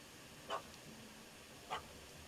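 A dog gives two short, faint barks about a second apart, somewhat distant, in The Witcher 3: Hearts of Stone, where a puppy has chased a cat up a tree.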